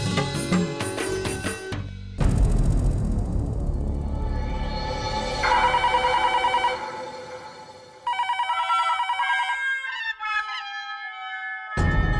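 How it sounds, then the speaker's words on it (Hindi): A telephone rings in a scene from a Hindi TV comedy, with bright repeated ring bursts that alternate with swelling background music and dramatic tones. "घर पे फोन लगा रहा हूँ, घंटी भी बज रही है"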